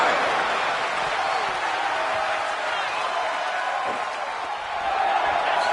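A dense, steady roar from a wrestling arena crowd in a WWE video game, recorded at a Monday Night Raw show in Pontiac, Michigan, holds at a loud, even level throughout with a faint swell near the end.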